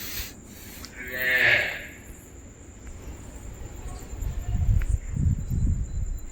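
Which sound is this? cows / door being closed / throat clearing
cows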